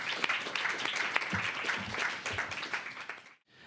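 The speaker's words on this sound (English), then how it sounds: "Let's give a round of applause to all our amazing panelists" Audience applause for a panel of climate research speakers, a brief burst of many hands clapping at moderate volume that cuts off sharply near the end.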